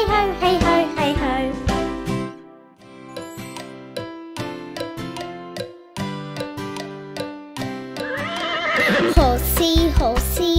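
A nursery rhyme with upbeat music features a horse neighing loudly several times, with rhythmic clip-clop hooves and jingling mixed into the bouncy tune.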